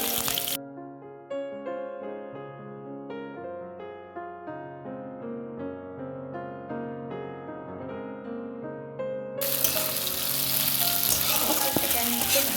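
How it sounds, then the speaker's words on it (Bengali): Chopped onions with bay leaf and chilli go into very hot oil for a mutton curry, bursting into a loud, hissing sizzle in the final seconds after a stretch of soft background music. "তেল খুব গরম হয়ে গেছে, তারপরে আমি দেবো হচ্ছে পেঁয়াজ কুচিগুলো।"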